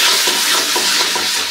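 Taro leaves fry and get stirred in a pan, making a loud, close sizzle broken by several quick scraping stirs across the short stretch with no voices.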